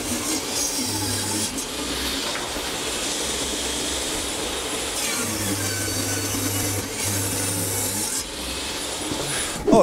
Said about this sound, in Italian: Collego il banco sega all'aspiratore.